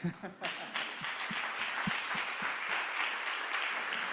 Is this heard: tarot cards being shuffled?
no